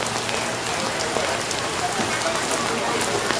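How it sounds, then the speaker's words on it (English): Steady rain falls outdoors at a live music performance, a dense, even patter and hiss that continues without pause. "It's raining."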